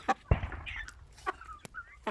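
A young rooster at a poultry pen gives a few soft, short clucks and chirps close by in a quiet setting.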